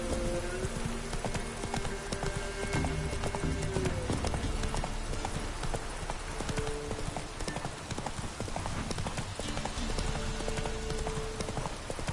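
Geralt's horse Roach gallops in The Witcher 3 video game, with fast, steady hoofbeats pounding continuously at close range over game music.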